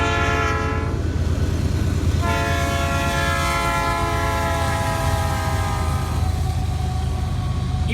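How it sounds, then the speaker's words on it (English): A train rolls past on the track with a loud, continuous rumble, and its horn blares in long, sustained chords that break off briefly and then resume close by. "Even the sounds of the track as a train is passing by is also pretty cool."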